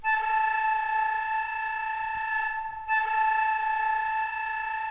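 A sustained flute tone with a rapid fluttering texture from the Spitfire BBC Symphony Orchestra library, without automation, holding steady, briefly breaking off near the middle before resuming at the same pitch.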